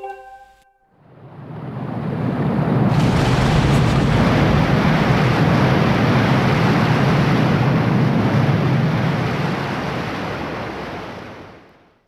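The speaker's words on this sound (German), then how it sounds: "Der Wasserstand im Wald von Firone ist gesunken." Water drains away as the level sinks in Faron Woods in the video game Zelda Skyward Sword: a broad whooshing surge swells in after a second, roars steadily, then fades out at the end.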